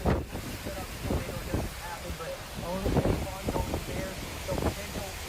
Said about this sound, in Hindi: तेज हवाओं के साथ बारिश हो रही है।